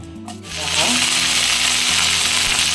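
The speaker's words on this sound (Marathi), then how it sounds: "फोडणीला कढीपत्ता टाकला, आता बटाटा टाकणार आहे मी त्यात." Potatoes drop into hot oil already crackling with curry leaves, a quieter sizzle that swells within half a second into loud, steady, close frying.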